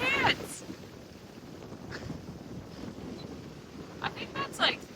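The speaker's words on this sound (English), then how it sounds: "the wind is howling." Strong wind of about 30-mile-an-hour gusts roars and buffets the microphone on a boat in a steady rush, with brief gusty peaks and a voice talking at moments.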